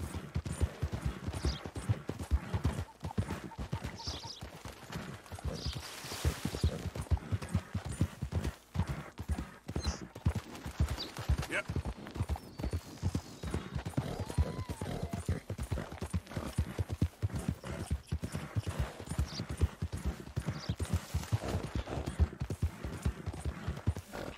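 Horse hooves clip-clop at a steady trot in Red Dead Redemption 2, a continuous, close, rhythmic patter with a brief whinny and faint distant gunfire.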